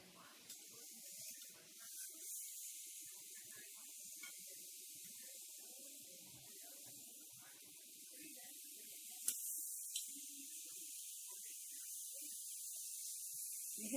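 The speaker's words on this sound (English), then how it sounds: "You hear that? That's our steak cooking." Steak sizzling on a cafe grill, a steady high hiss that stays fairly faint throughout, with a brief louder flare partway through and quiet voices murmuring underneath.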